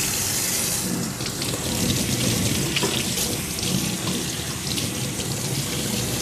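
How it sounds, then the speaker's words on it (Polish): Tap water gushes steadily and loudly for several seconds, pouring over a Mareld Shiny 5000 RE work lamp held under the running faucet in a sink. "Odkręcamy wodę."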